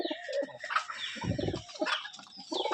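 Pigeons coo in a small pigeon farm, soft repeated throaty coos close by with a few chirps and light wing flutters mixed in, and no talking.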